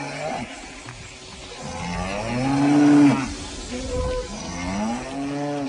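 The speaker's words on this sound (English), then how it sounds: "aitanya Mahaprabhu passed through Vrindavan, herds of grazing cows saw him pass, and immediately, surrounding him, began to moo very loudly" A herd of grazing cattle moos loudly and close by, several deep overlapping calls rising and falling together. There is no talk.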